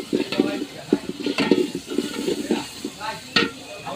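Spices with salt and coriander powder are stirred in a pot for tehari. A spoon scrapes and clatters in quick, irregular strokes against the metal over a soft sizzle, close and fairly loud.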